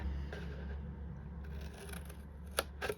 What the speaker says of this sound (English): So you just want to cut a nice straight line up.